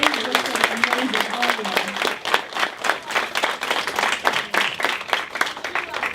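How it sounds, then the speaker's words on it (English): A graduation crowd applauds with steady, dense clapping, and a voice speaks briefly over the start. "One more round of applause for our students."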